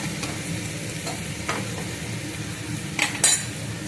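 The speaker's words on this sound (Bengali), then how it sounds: "এগুলো দিয়ে ভালো করে এখন কষিয়ে কষিয়ে রান্না করব।" Spiced curry being stirred and fried in a pan, with a steady sizzle underneath and a few scraping strokes and light metallic clinks of a utensil against the pan, close and fairly loud, with no talk.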